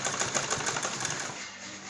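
Sewing machine stitching lace onto a neckline frill, a steady fast rhythmic whirring chatter that runs close and even before easing off near the end.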